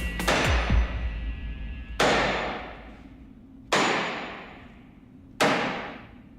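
Hammer blows on wedges during an overhaul of an A34 Comet tank: four sharp metallic strikes spaced a couple of seconds apart, each ringing and fading, close and loud with no talking.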